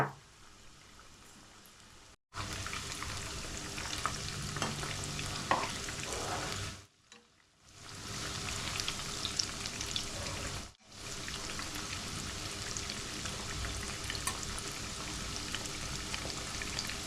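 Chicken 65 pieces fry in hot oil with a steady, dense crackling sizzle close by that briefly cuts out twice. No one speaks.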